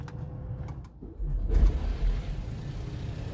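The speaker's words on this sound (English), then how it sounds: "Now I'm going to start the vehicle." Smart Fortwo MHD micro-hybrid 451 engine starting up, a brief click followed by a low rumbling crank and the engine catching into a steady close idle.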